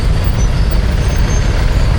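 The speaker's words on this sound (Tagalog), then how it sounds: "Flowing naman yung traffic dito." Heavy road traffic with trucks in Cagayan de Oro, a steady loud low rumble of engines filling the whole stretch, with no voices.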